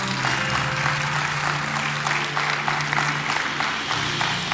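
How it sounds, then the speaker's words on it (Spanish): A church congregation claps and cheers in a dense, steady burst of applause that fills the room, with a sustained low musical tone running beneath it. "Dale un fuerte aplauso a Dios por eso"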